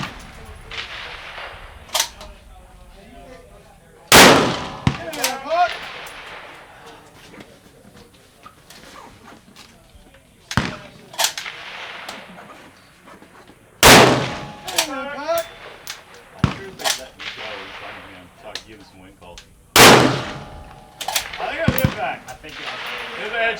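Precision rifle shots ring out at a PRS Pro Series shooting match, with several loud, sharp cracks spaced seconds apart. Each is followed by a brief echo, and people talk between shots.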